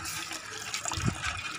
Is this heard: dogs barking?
no